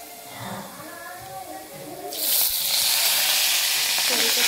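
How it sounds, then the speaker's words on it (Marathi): Mustard seeds and cumin hit hot oil in a kadhai, bursting into a loud, steady sizzle that covers the last half after a quieter opening with faint talk. "त्याच्यामध्ये थोडीशी राई घालूया आणि त्याच्यामध्ये 1 चमचा जिरे घालूया"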